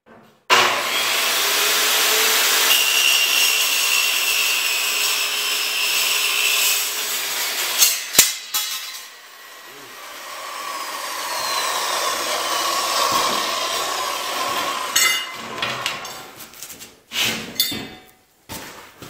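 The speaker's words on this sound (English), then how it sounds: "I can't say enough how much that metal saw saves" A metal saw cuts steel plate for a welding table built from junk, first as a long, loud grinding whine, then a quieter pass and a few scraping, clattering bursts near the end.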